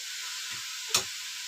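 Grated coconut sautéing in a pan over low gas with lumps of jaggery melting into it, a steady close sizzle and hiss throughout with one brief louder stir or scrape in the middle.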